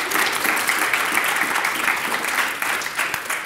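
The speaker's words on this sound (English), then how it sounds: "A round of applause for Nan, please." An audience applauds at a broadcasting careers panel event, steady dense clapping from a mid-sized crowd filling the whole stretch without a break.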